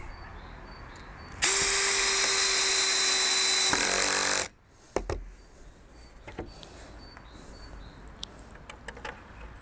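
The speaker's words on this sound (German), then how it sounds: "Dann eben mit den 4 cm Schrauben, die es dazu gibt, einfach in die vorgebohrten Löcher hinein." A power driver drives 4 cm screws into pre-drilled holes in wood while a garage for a robotic lawnmower is being built: one loud, steady whirring burst of about three seconds, then quiet handling knocks and clicks.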